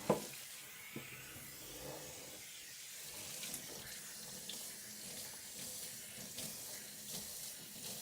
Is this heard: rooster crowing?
no